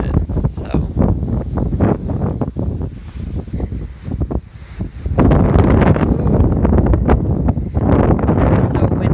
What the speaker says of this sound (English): It's so windy, it's blowing the fire really fast.